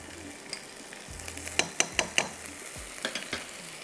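Chili paste and meat frying on high heat for galawati gosht, a sizzling bed broken by a burst of sharp spattering pops and spoon clatters near the middle, close and loud, with no voices.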